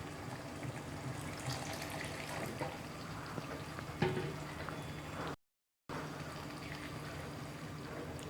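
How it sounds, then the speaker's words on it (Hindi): Water poured into a thick chicken angara gravy cooking over a high flame, giving a soft steady trickle and splash with faint kitchen clatter and one brief clink. "हम थोड़ा सा और पानी ऐड करते हैं इसमें।"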